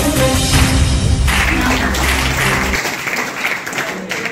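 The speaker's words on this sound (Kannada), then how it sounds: "ಚಪ್ಪಾಳೆ ಚಪ್ಪಾಳೆ ಚಪ್ಪಾಳೆ ಚಪ್ಪಾಳೆ" Dense, steady applause from a crowd at a government high school Teachers' Day celebration, loud and continuous throughout, with a low rumble of voices underneath.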